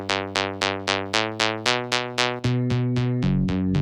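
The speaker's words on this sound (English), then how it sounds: "Then I added this layer here of mid bass, which is a more, it makes the bass ring" A mid bass synth layer from a progressive house production repeats a plucked, ringing bass pattern. Each note has a sharp attack and a quick decay, and the pitch steps upward over the phrase. The sound is close and clean, with no voices.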